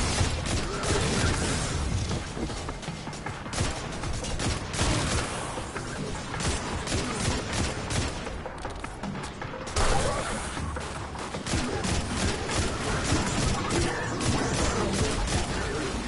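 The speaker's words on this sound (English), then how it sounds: "They're shooting me from all directions." Enemy gunfire in the video game Destiny 2 rattles almost without pause, dense rapid volleys and loud impacts with brief dips, close and harsh, layered with game effects.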